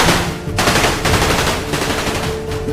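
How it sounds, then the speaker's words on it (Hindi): Rapid gunfire crackles through a dramatized war battle against a terrorist in the trees, with a dense volley of shots bursting out loud and near over a rumbling, reverberant background. "गोली चली"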